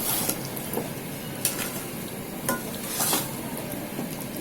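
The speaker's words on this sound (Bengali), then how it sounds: "আর চিনি দেওয়ার পর তো নাড়তে হবে" Sweet mango pickle with sugar added, cooking on a low flame, a soft steady simmering crackle with a few spoon scrapes and taps against the pot as it is stirred, close by and without talk.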